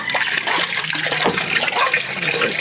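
Water runs continuously with a loud, close, unbroken rushing and splashing that holds at the same level the whole time.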